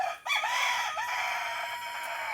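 A rooster crows in a chicken yard, one long drawn-out call that starts right after a brief dip and holds loud and close for about two seconds, with no talking over it.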